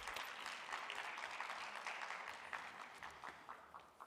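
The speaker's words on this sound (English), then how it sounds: "A round of applause, please." Sustained clapping from a conference audience as a panel takes the stage at a summit in South Africa, a fairly soft, steady patter of many hands that tapers near the end.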